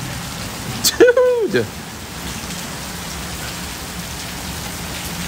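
Heavy rain pours steadily outdoors, hard enough to ripple the ground, as a constant close wash of hiss that fills the whole clip, with one man's brief loud exclamation near the start.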